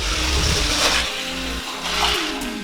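Hot Wheels Ferrari F12 Zamac Edition and McLaren Speedtail die-cast cars racing down a curved plastic track, a close rolling whir and rumble with swelling rattles as the cars pass, no talking.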